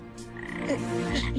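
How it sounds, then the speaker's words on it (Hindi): A frog gives a brief, throaty croak against a continuous low hum, heard alone and at a moderate level. "ये मेंढक से बहुत डरती है।"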